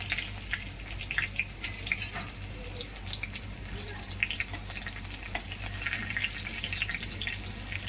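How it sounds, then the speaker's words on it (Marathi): Garlic frying in a spoonful of oil in a wok for a cauliflower dish, giving a steady, close crackling sizzle with scattered pops and faint scraping throughout, no voices. "त्यामध्ये आता लसूण घालूया। लसूण चांगलं परतलं की हिरवी मिरची घालूया"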